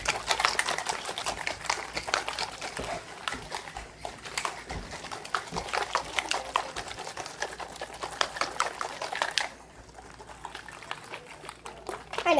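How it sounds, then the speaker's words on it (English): Ice Cream Magic mixture being mixed without pause makes a loud, fast, continuous rattling churn close by, with the rhythm dropping in intensity briefly near the end before picking up again. "you're just going to have to watch me mix for 2 minutes"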